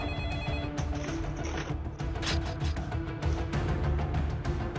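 A telephone rings repeatedly in fast electronic bursts, fairly loud and steady, standing alone with no talk, suggesting report calls coming in about a bear disturbance near Lake Tahoe, California.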